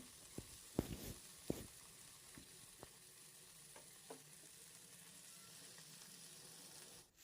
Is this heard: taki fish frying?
yes